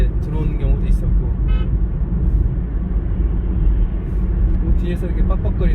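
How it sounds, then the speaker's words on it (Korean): Car horns honking from a vehicle behind, heard from inside a car driving at about 60 km/h on an ordinary road; several short toots rise over steady engine and road rumble. "뒤에서 이렇게 빡빡거리네요."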